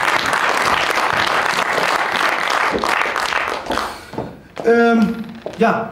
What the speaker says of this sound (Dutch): Groot applaus voor Claudia Saar aan Huis